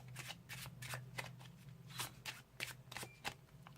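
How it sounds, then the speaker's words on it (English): Quick riffling bursts of playing cards being shuffled, several crisp flurries in a row with short pauses, close up over a low steady hum. "We'll even give them another shuffling up."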